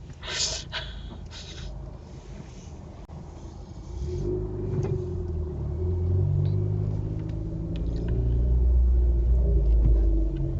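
A dirty diesel car engine gives a low, rough rumble that builds and grows louder and heavier toward the end, with a sharp breathy gasp near the start.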